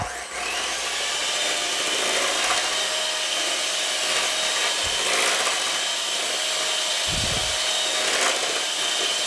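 An electric hand mixer whirs loudly and continuously on high speed through raspberry cream cake batter with whipped topping, a steady buzzing whine broken by a couple of brief low thumps.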